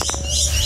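A single short, soft zebra dove call, close and clear over a steady background hum.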